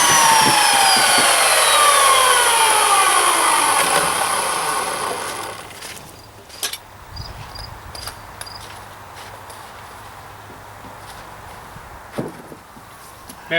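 A power saw with a descending whine cuts through a wooden rim joist for a shed floor, loud for the first five seconds before winding down, followed by quieter knocks and handling of the lumber.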